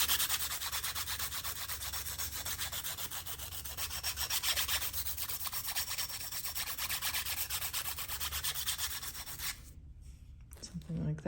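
A pair of pliers has its jaws rubbed back and forth on 220 grit sandpaper, making a close, steady, raspy scraping that stops abruptly near the end before a brief last stroke.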